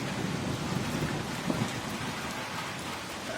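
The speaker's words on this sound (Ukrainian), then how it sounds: "Ну, десь хвилин 20 пройшло і посипався дощ" Rain pouring down outdoors near a garage, a steady dense hiss of drops on surfaces with a low rumble underneath, continuous and fairly close, with no voices.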